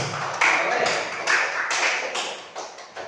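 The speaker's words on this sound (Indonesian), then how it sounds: "Tepuk tangan untuk saya." A small group claps for a presenter during a training session on a school culture module, irregular close hand claps in a few bursts over about three seconds, with no talking.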